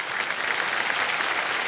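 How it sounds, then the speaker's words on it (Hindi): Steady studio audience applause on the set of the Hindi quiz show Kaun Banega Crorepati, a dense, even wash of clapping that holds at a moderate level throughout with no voices over it. "तो हम आपकी सराहना करते हैं और ताली बजाते हैं।"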